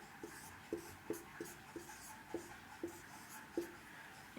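Marker or chalk strokes on a board during a math lesson, a series of short scratchy taps and squeaks in an uneven rhythm, close and fairly quiet with no talking.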